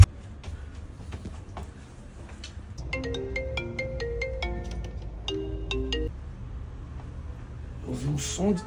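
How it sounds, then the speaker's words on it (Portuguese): A telephone ringtone chimes in repeated melodic bursts through the middle of the scene, moderately loud against a quiet room background with scattered clicks and movement. "Ouvi um som de telefone tocando."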